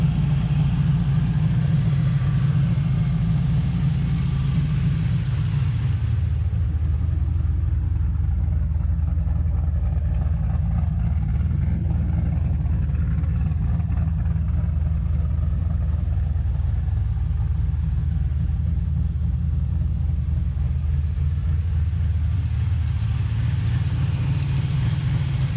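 A turbocharged LSx V8 swapped into an RX7 idles after being cranked up, a steady deep low rumble that shifts in pitch early on and holds for a long stretch, close and unaccompanied by talk.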